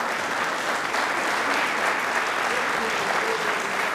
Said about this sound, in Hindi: पहले एक बार इसरो की ताली बजा दीजिए, फिर हम कंटिन्यू करते हैं।